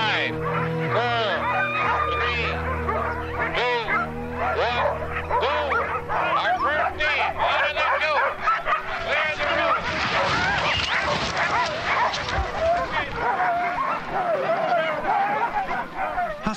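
A pack of sled dog huskies barks, yips and whimpers continuously and loudly at close range, an excited overlapping chorus that thins into scattered barks with some mixed noise near the end.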